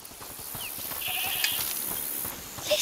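Goat bleating inside a house in the video game A Plague Tale: Requiem, a couple of thin, muffled calls under steady ambient game noise and a high hiss.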